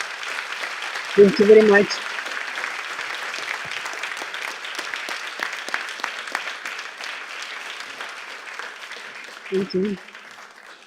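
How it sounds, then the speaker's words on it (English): Audience applause at a symposium fills the stretch as a dense, steady clatter of many hands, with a person briefly speaking thanks over it near the start and again near the end. "Please, a big applause for Roxana."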